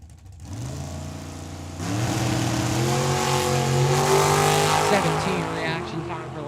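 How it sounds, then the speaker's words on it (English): A green and black dragster and a Nova launch side by side down a drag strip, engines roaring loud and close and swelling as they accelerate away, with tire noise over the sustained roar. "Nicely painted green and black dragster taking on the Nova in the right."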